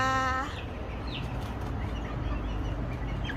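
Chickens on a small farm during vaccination day, soft scattered clucks and calls close by over a steady low rumble of background noise.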